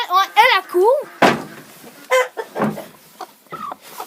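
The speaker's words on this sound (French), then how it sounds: "Ici, c'est nos poules pondeuses." Laying hens clucking inside a henhouse on a small farm, a series of close, loud squawks and clucks in uneven bursts with short pauses, with some voices mixed in.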